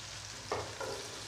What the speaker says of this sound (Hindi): इन सारे मसालों को अच्छी तरह से मिक्स कर लेंगे।